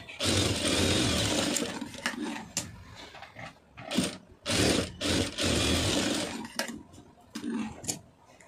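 A sewing machine stitches fabric for a decorative knot design in bursts, loud and close, its running hum stopping and restarting several times with short gaps between runs.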